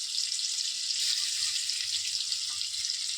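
Garlic and ginger paste fries in a hot pan with a steady, close, bright sizzle that holds evenly throughout, with no voices.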